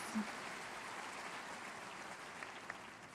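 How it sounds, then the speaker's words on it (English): Crowd applause at a Providence High School scholarship recognition event, a steady wash of clapping from a large audience, moderately loud and continuous without speech. "That does deserve an applause."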